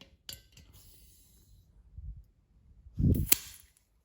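A used Army 1911 gas-powered BB pistol is test fired, giving a few sharp, close cracks, separated by pauses, with the loudest shot near the end over a soft thump of handling.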